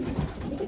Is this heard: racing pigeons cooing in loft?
yes